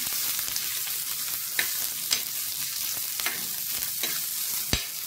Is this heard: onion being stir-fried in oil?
yes